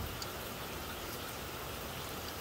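Rain falls as a steady, dense hiss of close patter that stays even and unbroken throughout, with no voices heard.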